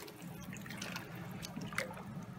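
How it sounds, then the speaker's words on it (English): Water siphoned from one barrel into another while mixing blackwater, a soft steady trickle and dribble of liquid running continuously at close range. "I can just siphon it over into the other barrel."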